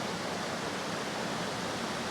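A river rushes under a slate bridge on the way up Cadair Idris in Wales, producing a steady, broad hiss of flowing water with no other sounds.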